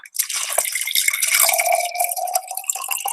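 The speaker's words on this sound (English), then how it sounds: "Who are you pouring that for, man?" Silk plant-based milk pours into a glass in one steady, close liquid stream lasting about three seconds, with no talking.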